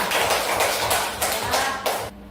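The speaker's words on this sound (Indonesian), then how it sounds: "tepuk tangan untuk kelompok 2" A third-grade primary school class applauds a student group, with loud, uneven bursts of many hands clapping that swell and fade in waves before cutting off abruptly.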